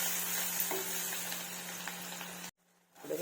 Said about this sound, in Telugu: ఉల్లిగడ్డ ముక్కలు కొంచెం వేగనివ్వాలి